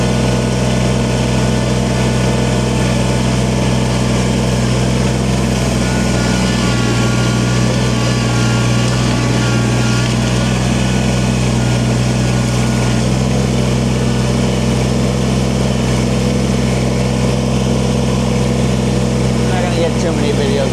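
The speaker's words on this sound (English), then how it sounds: "It's a great little tractor, this thing." A Kubota BX sub-compact tractor engine runs while loading stone into a dump trailer, a steady, loud, close drone that holds an even pitch for the whole stretch.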